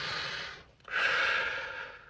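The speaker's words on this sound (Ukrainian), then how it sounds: "Повільно через ніс дихнув." A slow, deliberate breath in through the nose during a calming breathing exercise, close and airy. A steady rush of air breaks briefly, then resumes and continues to the end.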